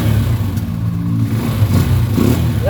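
A small engine, its carburetor just cleaned, runs steadily at a close, loud rumble and rises briefly into a rev, with no voices over it.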